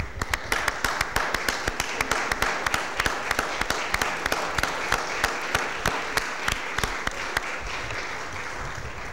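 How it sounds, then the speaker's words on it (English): Members of a city Board of Aldermen join in a round of applause during a meeting, a steady crowd clapping with several sharp, distinct claps standing out close to the microphone, continuing evenly without a break. "Board of Aldermen, could you guys stand and join in a round of applause for them"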